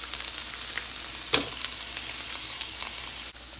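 Onion goes into a hot frying pan with a continuous close sizzle, broken by one short clink of utensil against pan partway through; no one speaks.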